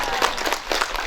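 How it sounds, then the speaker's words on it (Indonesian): An audience at an Islamic preaching gathering in Mamonta claps together, a dense, close burst of applause with uneven peaks that carries on briefly without pause. "Tepuk tangan dulu buat semuanya"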